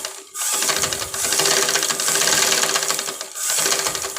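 An old household sewing machine running without thread, a loud, close, steady mechanical whir with rapid needle clatter, stopping briefly twice before starting again.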